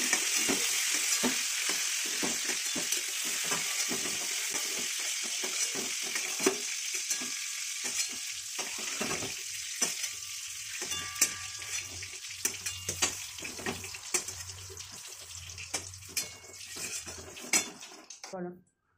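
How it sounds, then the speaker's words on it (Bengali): Pointed gourd (potol) frying in oil in a home kitchen pan, a steady close sizzle with repeated scraping and clinking of a spatula as it is stirred, going on for the whole stretch with no talking. "পটলটা ভাজা হয়ে গেল।"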